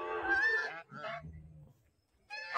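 Loud, close nasal honks from a pair of ducks come in a few harsh calls, with a short quiet gap before another honk starts.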